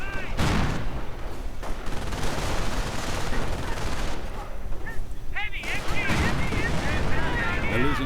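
Machine-gun bursts and grenade blasts from a 30 caliber fight in Company of Heroes, a steady clatter of automatic fire with heavier booms mixed in, loud and constant beneath the game's radio chatter and voices.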